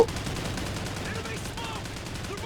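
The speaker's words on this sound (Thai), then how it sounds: "ยิงต่อไปยิงต่อไป" Dense automatic gunfire in the video game Call of Duty: Ghosts, a sustained loud rattle of shots continuing without pause through a battle scene.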